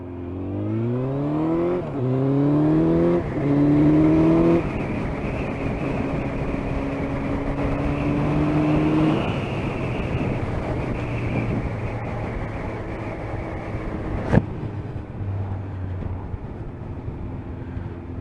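A Suzuki GSX 1400 motorcycle engine runs on a dyno, revving up through rising tones several times, then settling into a long steady drone, loud and close, with one sharp click near the end.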